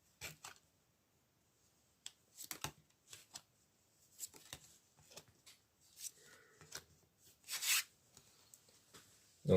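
Tarot cards shuffled and drawn by hand in a quiet room, a series of close, crisp riffling bursts and soft card slaps at irregular intervals, with a brief quiet voice in between.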